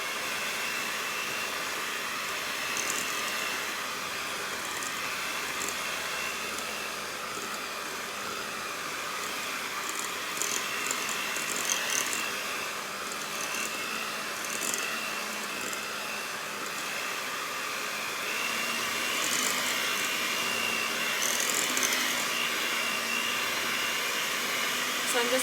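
Electric hand mixer beating peanut butter cookie dough in a bowl, a steady close whirring drone that holds through the whole stretch with slight shifts as the speed is turned up.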